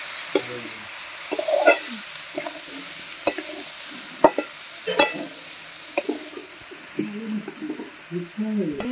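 Spices frying in a pan over a wood-fired clay stove as a little water goes in, with repeated stirring scrapes and soft sizzling throughout, close and moderately loud, broken by short sharp utensil knocks.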